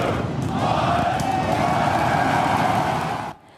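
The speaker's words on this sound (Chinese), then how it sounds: "在 SpaceX 员工的欢呼声中" SpaceX employees cheering and shouting in a dense, loud crowd roar at a Starship test flight launch from the Boca Chica base in Texas, sustained for over three seconds before cutting off abruptly.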